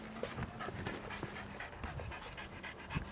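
A dog panting in quick, steady breaths close by, with small whimpers and scuffling mixed in, quiet and continuous with no talk over it.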